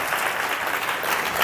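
A church congregation bursts into loud, dense clapping that holds steady throughout this short burst, with no voices above it.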